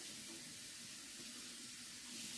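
Herbs being rinsed under running tap water, a steady faint hiss of flowing water with no talk.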